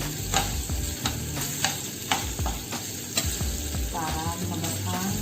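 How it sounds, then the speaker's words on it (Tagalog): Pork fries in oil in a pan for adobong tuyo, stirred with a spoon or spatula. A close, constant sizzle is broken by regular scraping strokes, with no one speaking. "Halo-haloin na natin guys para hindi siya matunog. Kasi kailangan lang natin siyang matusta ng konti"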